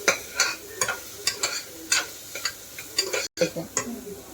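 Onion and vegetables sautéing in a pressure cooker pot for pasta, a spoon stirring in regular scraping strokes about every half second over a soft sizzle, close by.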